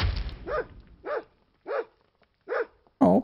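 Puppy in a Hulk vs Saitama animation barking in short, separate yelps, four evenly spaced barks close and clear, followed by a sharper high yip at the end.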